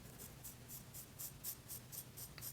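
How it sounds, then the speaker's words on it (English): A Civivi Vision FG folding knife blade shaving arm hair, a series of about ten quick, soft scraping strokes in a steady rhythm, close up over a low background hum. "okay, it is cutting a good amount of hair right there."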